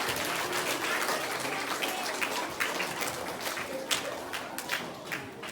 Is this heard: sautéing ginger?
no